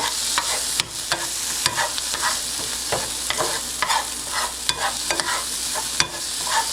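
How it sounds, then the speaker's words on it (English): Salt and pepper being stirred into frying breakfast food in a pan, a steady loud sizzle with repeated scraping stirs every second or so, no voices. "And then we're going to actually stir it in."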